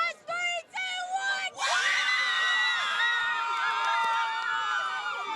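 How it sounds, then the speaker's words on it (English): A crowd of Southside Hawks fans at a Friday night high school football game breaks into loud, sustained cheering and whooping, building after a few brief shouts and holding strong to the end. "Let me hear your loudest Hawk cheer."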